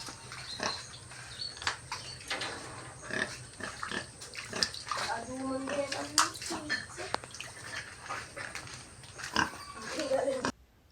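Pigs grunting and squealing at close range, mixed with splashing water and scattered knocks, continuing in irregular bursts.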